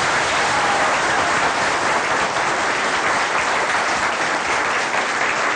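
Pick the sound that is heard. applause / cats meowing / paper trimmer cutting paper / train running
applause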